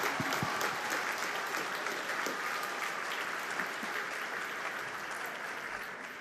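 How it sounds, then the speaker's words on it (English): A school spring band concert audience gives loud, sustained applause, with dense clapping from many people that fades slightly toward the end. "Let's please give him a round of applause."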